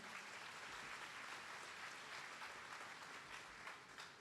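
Sustained applause from an audience at the closing valedictory function of a five-day event, a dense even wash of many hands clapping, steady and fairly far, with no voices over it.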